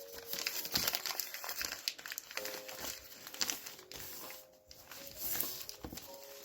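Sheet of paper crinkled and creased while being folded hamburger-style and shaped into a triangle for a pig's ear craft, with close, repeated soft crumpling rustles and crackles throughout, no voices.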